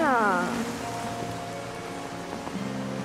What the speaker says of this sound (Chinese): 下这么大雨在这干嘛呀